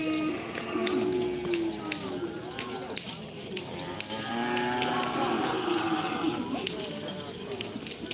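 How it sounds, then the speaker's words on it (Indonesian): Javanese cattle at a karapan sapi bull race low and moo repeatedly in long, overlapping calls amid busy crowd chatter and sharp taps. "Ini sapi Jawa."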